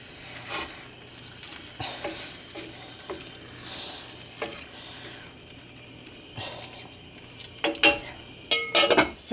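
Cubed steak simmering with mushroom gravy in a pan is stirred, with soft scrapes and clinks of a utensil against the pan at irregular intervals, quiet overall, with a few sharper metallic knocks near the end.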